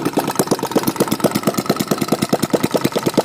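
A small carbureted engine with an open header runs close by, firing in a fast, steady, slightly uneven put-put rhythm with no talking over it.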